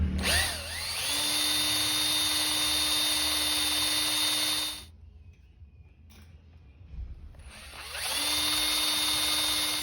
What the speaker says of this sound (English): Iron drill's pretty easy, but I do not want to break a drill in this.